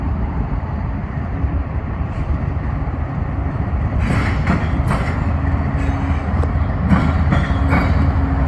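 A BNSF freight train with a trailing CP AC-44 rebuild locomotive passes by, producing a loud continuous rumble with rattling wheel and wagon noise that picks up partway through.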